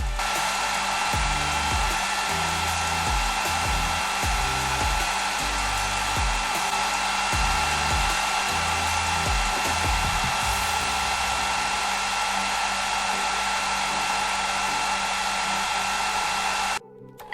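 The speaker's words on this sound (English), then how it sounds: "the speed of my blow dryer was very high, splashing some paint on the negative side of the painting" A blow dryer runs on high speed over poured acrylic paint for a Dutch pour botanical painting. Its loud, steady whir continues for about seventeen seconds with slight low fluttering, then cuts off abruptly at the end.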